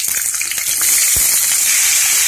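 Chopped onion drops into hot oil already holding cumin seeds and a pinch of asafoetida, setting off a loud, bright sizzle that swells within a second and then hisses on steadily.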